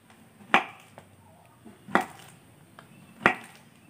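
A knife slicing through tempeh on a board, three crisp separate cuts about a second and a half apart, close and clear against quiet background.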